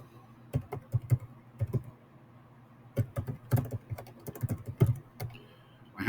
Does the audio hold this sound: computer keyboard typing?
yes